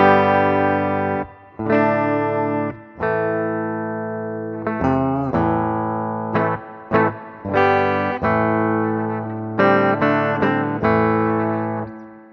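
Clean electric guitar plays a series of picked notes and chords, bright and close, with short gaps between phrases and natural decay.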